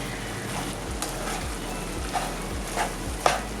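Beyond Beef cooking down with sauce in a pan gives a steady, moderate sizzle with soft stirring scrapes and a few brief clinks, with no talking.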